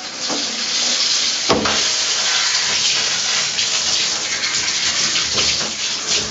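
Loud, steady running water streams without a break as henna is rinsed out of hair, close and continuous with a brief knock near the start.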